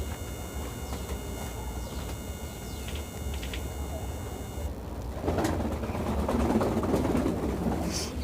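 Pigeons, including a female, coo in a loft with other birds calling around them over a constant low background rumble that grows louder toward the end.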